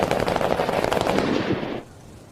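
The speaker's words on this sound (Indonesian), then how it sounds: "akhirnya Maina bersama dengan beberapa orang lainnya ditembak mati" Rapid gunfire in a film scene as several people are shot dead at a Taliban hideout, a dense burst of loud automatic shots for nearly two seconds before cutting off abruptly to quiet.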